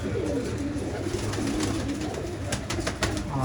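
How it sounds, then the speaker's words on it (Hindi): Pigeons kept in a home loft in Jamshedpur, Jharkhand coo repeatedly in soft, throaty, overlapping rolls, close by and continuous, with faint rustling and flapping mixed in. "सब एक पर एक है कबूतर, बहुत ही लाजवाब"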